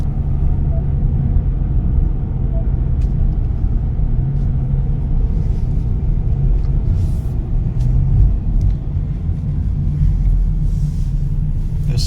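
A rental car makes a quarter-mile run, its engine and road rumble loud and constant from inside the cabin for the whole stretch.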